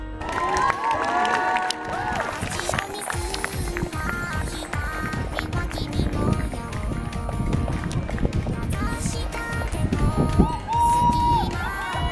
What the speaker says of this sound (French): on applaudit Alto, maîtresse portière.